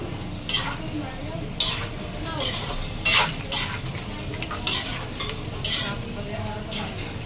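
Sisig made from chicken liver and gizzard sizzles in a pan while a utensil stirs it, with a scraping stir roughly every second over a steady frying hiss close by.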